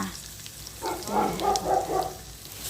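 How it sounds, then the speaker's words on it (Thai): Southern Thai curry paste being stir-fried with chicken in a pan, a soft sizzle that swells into several bursts of frying as the paste is stirred, then settles back. "ใส่พริกแกงลงไปค่ะ ผัดผัดผัด"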